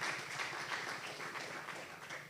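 Audience applause for conference panelists at a global relations and partnerships conference, a steady dense wash of many hands clapping, even and sustained throughout with no talk over it.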